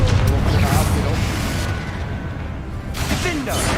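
Fiery Confringo spell blasts in the Hogwarts Legacy game, a dense rumbling burst of booming explosions that fills the clip loudly, with a fresh flare near the end.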